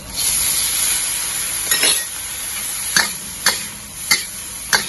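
Mushrooms stir-frying in a pan with soy sauce for vegetarian Lo Hon Jai, a steady close sizzle broken by several sharp clinks and scrapes of a spatula stirring at irregular intervals.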